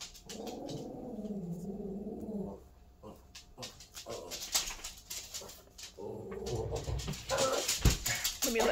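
A dog whimpers and whines close by, wanting to be let outside. Two drawn-out whining stretches are split by a quieter gap filled with snuffling and small movement sounds.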